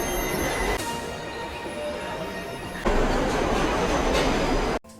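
A steady rumbling roar of a subway train running underground, with a sudden louder surge partway through before it cuts off abruptly.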